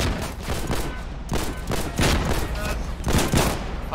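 Rifle gunfire in the video game Foxhole during a beach landing attack, with dense, loud, overlapping volleys of shots and booms continuing throughout, and shouted voices mixed in.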